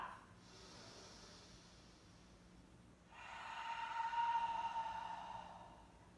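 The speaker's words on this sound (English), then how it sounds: "We'll continue to breathe here, 2 more rounds of breath." Slow yoga breathing, two long airy breaths, a softer inhale followed by a longer, louder hissing exhale, close and quiet, with no talking.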